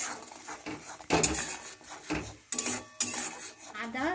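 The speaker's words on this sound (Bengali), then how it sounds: "দিয়ে ভালো করে নেড়ে নেব।" Potatoes with turmeric and chilli powder are stirred in a cooking pot, giving close, loud scrapes and clinks of a spoon against the pot in a few sharp bursts.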